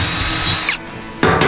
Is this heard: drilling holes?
yes